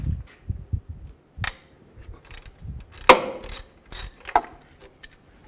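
A ratchet wrench with a 13 mm socket loosening an alternator nut on a 2008-2012 Ford Escape, with scattered clicks and a few sharp ratcheting bursts between quieter handling noises.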